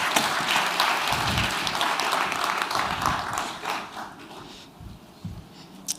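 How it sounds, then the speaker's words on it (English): Applause at an African urban forests conference, a moderate wash of clapping from the audience that thins out gradually, with a few scattered claps and taps trailing at the end. "another round of applause for her as she makes her way off stage"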